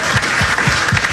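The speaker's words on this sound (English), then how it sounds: "let's give a round of applause to safety Coy Parrish." Audience applause for a football safety at a sports bar, a dense steady wash of many clapping hands filling the short stretch, with low voice-like murmurs rising underneath.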